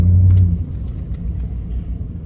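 Low, steady engine and road rumble from inside a moving car, heaviest in the first half-second, then settling into an even drone with no voices.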